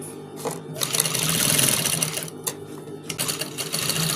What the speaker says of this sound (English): Sew it around like that, so that it won't give you problem.